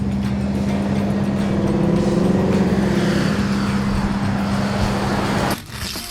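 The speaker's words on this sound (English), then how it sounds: "They made a thunderous entrance with the Dodge Challenger RT 426" A 1970 Dodge Challenger R/T with a 426 HEMI V8 rumbles steadily and loudly with a deep, constant engine drone, then the sound drops abruptly near the end.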